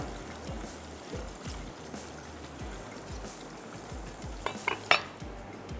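A spoon stirs potato pieces into aloo gosht in a pot with soft, steady scraping and shuffling strokes, and a few brighter clinks of metal against the pot near the end.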